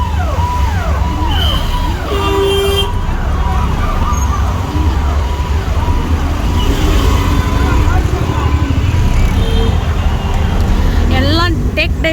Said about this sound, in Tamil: ஃபுல்லாக டிராஃபிக் ஆகிடுச்சு.